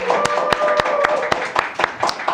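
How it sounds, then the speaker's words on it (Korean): Guests being applauded during a live political talk broadcast: a handful of sharp, evenly spaced claps ring out close by over a steady background tone, with a faint voice underneath. "큰 박수 한번"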